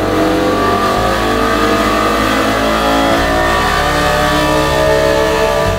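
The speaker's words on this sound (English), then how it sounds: "it's powered by the legendary S85 V10" A BMW M6 with the S85 V10 engine revs loudly and continuously up close, its dense, steady roar holding throughout and shifting in pitch about halfway.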